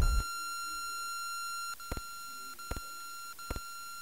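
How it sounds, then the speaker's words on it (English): A steady high electronic tone holds throughout, broken by a few short, sharp beeps spaced about a second apart, in the WonderSwan game Clock Tower: The First Fear. "What is the beeping noise?"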